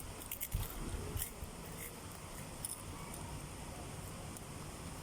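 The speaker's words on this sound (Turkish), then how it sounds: "Ben bu tarafla yiyorum." Faint close-up biting and chewing of food, a few crisp crunches and wet squishy bites in the first second or so, then quieter mouth sounds under a low steady background hiss.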